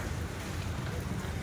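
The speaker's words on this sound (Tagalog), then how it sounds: "Sa lakas ng hangin, tinutulak niya." Strong typhoon wind from Typhoon Enteng in Divisoria roars steadily with a rough, gusting rush close to the microphone.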